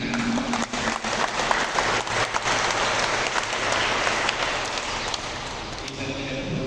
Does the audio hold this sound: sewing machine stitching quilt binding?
no